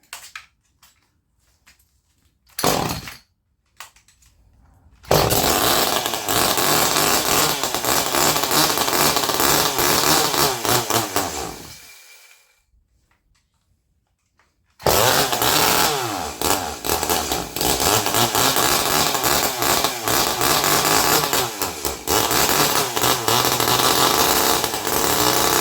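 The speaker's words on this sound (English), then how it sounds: "this is going to start with no muffler on it" Echo CS-310 chainsaw with its muffler removed, pull-start bursts, then a loud raw two-stroke roar for several seconds that cuts out and restarts into another long harsh run, close-up and without talk.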